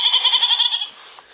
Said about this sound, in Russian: Это мой друг Козленок,